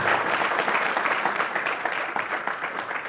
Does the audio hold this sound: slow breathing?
no